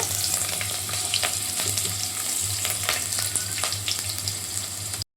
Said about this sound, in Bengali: বন্ধুরা এরকম হালকা হালকা করে একটু ভেজে নিচ্ছি।